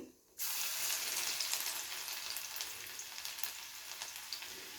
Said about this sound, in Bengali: রসুনটাকে একটু লাল লাল করে ভেজে নেব।